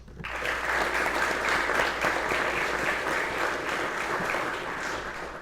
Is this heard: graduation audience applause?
yes